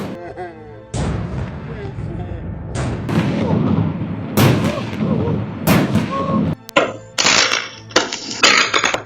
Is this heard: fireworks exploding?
yes